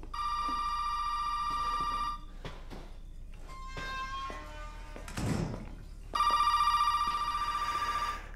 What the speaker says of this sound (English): as soon as the freaking I get out of there, the phone rings, of course